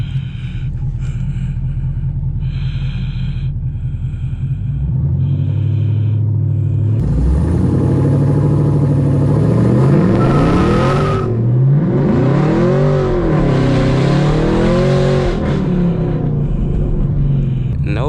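A Chevrolet Camaro SS launches hard without traction, its engine rising from a low rumble into a loud, sustained rev with wavering pitch as the rear tires spin, heard close and alone.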